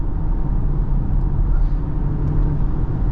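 A 2023 BMW X3 with an 8-speed automatic transmission driving along, a steady low cabin drone of engine and road noise with a smooth, constant rumble and no talking.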